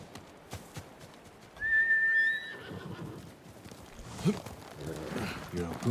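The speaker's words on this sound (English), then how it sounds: "You're a good horse," A horse neighs in the video game Ghost of Tsushima, one shrill whinny rising over hoof clip-clops and ambient game sound, with talk around it.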